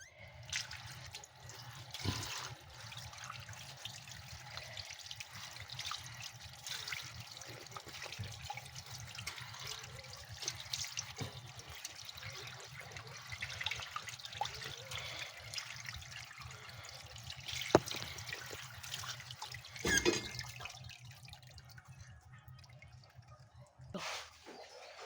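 Boneless bangus (milkfish) rinsed under running tap water, a steady trickle and splash with soft dripping and occasional handling thuds, fairly quiet and continuous throughout.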